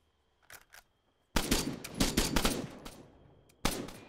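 Gunfire in the video game Arma 3: two quick shots, then a dense rattling burst of automatic fire, and another burst starting at the end, loud against near silence.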